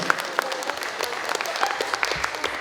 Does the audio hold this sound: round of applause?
yes